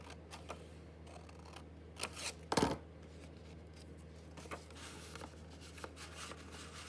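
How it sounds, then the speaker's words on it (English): Scissors cutting paper for a collage: a few faint snips, then one louder crisp cut in the middle, with light paper rustles in a quiet room and no talking. "so let's cut this bit off here."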